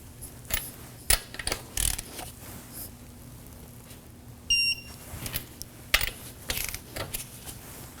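A torque wrench tightens the rear wheel lug nuts of a 2014-2020 Acura MDX to 80 foot-pounds in a star pattern: scattered ratcheting clicks and sharp clacks in short bursts, with a couple of brief electronic beeps against a quiet background.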